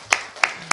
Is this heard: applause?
yes